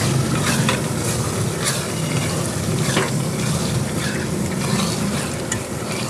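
Chicken mince with spices stir-fried in a pan, giving a loud, continuous sizzle with frequent scraping stirs throughout, close up and without talk.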